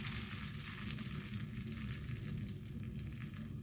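Cornbread cakes fry in a good amount of oil in a cast iron pan, a dense, steady sizzle and crackle running continuously up close, with no talking.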